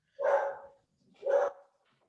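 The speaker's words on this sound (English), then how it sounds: "whose dog is that?" A dog barks twice, one bark after the other, with short clear gaps between them, the sound fairly close against an otherwise quiet background.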